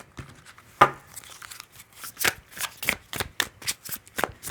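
Tarot cards being shuffled up close: a quick riffle, then a run of crisp rhythmic flicks and slaps in bursts, alone with no talk.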